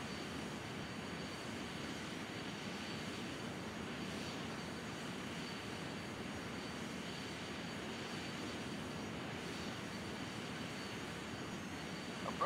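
Steady, droning airplane engine from the FSX Acceleration flight simulator during a steep descending oval pattern, a continuous moderately loud hum that holds unchanged throughout with no voices.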